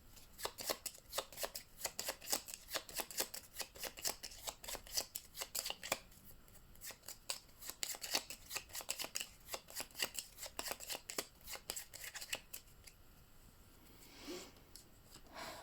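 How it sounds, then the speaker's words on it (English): A deck of cards for the Glass Road board game being riffle-shuffled close up, with rapid bursts of flicking snaps repeated over and over, then a softer rustle at the end, quiet and without talking. "Shuffling."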